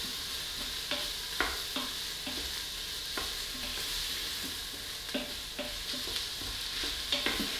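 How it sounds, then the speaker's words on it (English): Vegan sausage browns in a pan with a steady hiss of frying, broken by occasional clicks and scrapes of a utensil. "I'm just gonna let that warm through so the sausage starts to brown"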